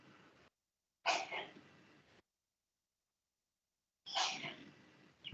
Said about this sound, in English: My daughter sneezing.